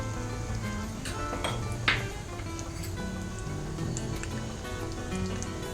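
Hot oil sizzling as a phodni tempering with mustard seed dal and asafoetida is prepared for raw mango pickle; a continuous soft crackle with scattered pops, one sharper burst near the middle.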